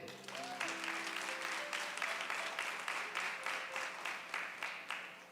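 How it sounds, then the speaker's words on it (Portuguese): A church congregation applauding during a Sunday service, steady dense clapping throughout with a faint sustained tone underneath and no talk over it. "Feliz com Jesus? Aplauda Ele."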